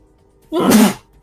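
A single sharp sneeze, close and loud, bursting out for about half a second against a quiet background during a tabletop role-playing session.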